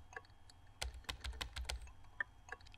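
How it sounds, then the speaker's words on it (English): Quiet, close keyboard taps on a computer keyboard while playing a Windows XP simulator game, a loose, irregular run of about a dozen clicks with no voices. "I'm just tapping 3, the 3 key on my keyboard"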